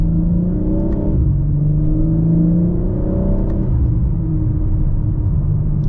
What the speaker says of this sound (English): You can notice the burbles are a bit more pronounced for sure.